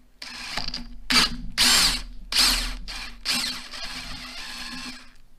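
A cordless drill bores into an SR20DET oil pan in several short bursts of high whining, close and loud, separated by brief pauses, with no talk.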